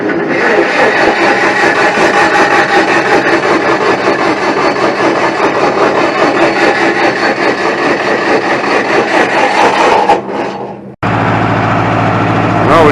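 A Wisconsin V456D engine on a Ditchwitch 6510 trencher runs loud and steady with a rough mechanical clatter for about ten seconds, then cuts out abruptly and gives way to a lower, different hum.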